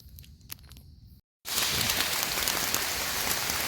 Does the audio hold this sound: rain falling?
yes